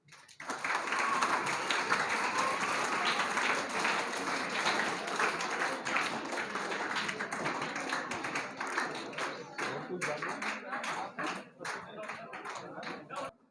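At a government high school annual award ceremony in Khalabat Township, an audience claps for a sixth-class student, a sustained dense applause that thins into scattered individual claps toward the end.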